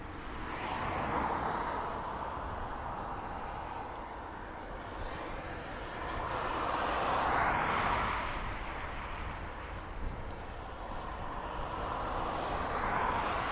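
An ATR turboprop airliner draws closer at Dublin Airport, its propeller drone swelling and fading in broad waves over about fourteen seconds, moderately distant and steady, with no voices.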